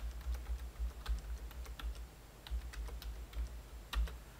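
Quiet, steady typing on a computer keyboard while writing Arduino code, with irregular soft key clicks and occasional heavier strokes and no voices.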